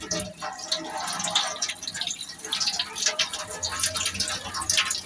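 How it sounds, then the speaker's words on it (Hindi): Fish being washed with water gives continuous close splashing and dripping, like running from a tap, for a few seconds. "इसकी क्लीनिंग करनी है, सफाई करनी है, इसको धोना है अच्छे तरीके से"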